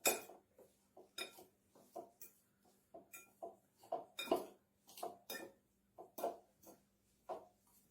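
Spoon strikes and scrapes against a bowl in a repeated, fairly regular rhythm while pumpkin and curd cheese are stirred together for pancakes, close and clear with brief pauses between clinks.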